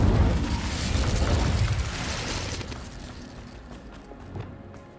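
Fiery Incendio spell blast in Hogwarts Legacy, a loud booming burst with roaring low rumble that swells at the start and slowly fades over several seconds.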